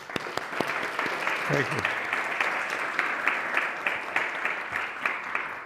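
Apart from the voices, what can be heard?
audience applause for speaker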